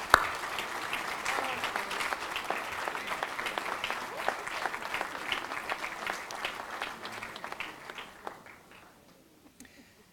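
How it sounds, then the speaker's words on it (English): Banquet audience applauds athletics hall of fame inductees, a full, sustained round of clapping that gradually thins out and fades to near silence over about ten seconds. "Ladies and gentlemen, let's give them a round of applause."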